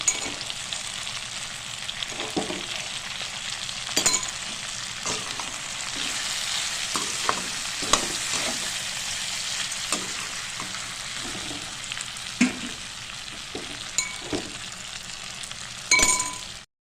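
Masala frying in hot oil in a pan gives a steady, close sizzle throughout, broken by a few sharp metallic clinks and scrapes of a utensil against the pan.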